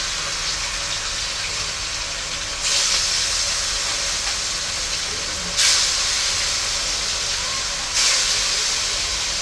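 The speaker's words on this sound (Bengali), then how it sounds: "এইখানে লবণ হলুদ মাখা মাছগুলি এখন তেলে দিয়ে দিই" Rui fish pieces rubbed with salt and turmeric hitting hot oil in a kadai: a loud, continuous hiss that surges sharply three times as each piece goes in.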